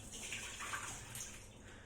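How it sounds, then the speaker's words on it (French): Water from washed potatoes is poured away in a short, faint rush of splashing and trickling, with no talk. "Je vais vider l'eau et surtout, je vais les couper en carrés mais sans les relaver."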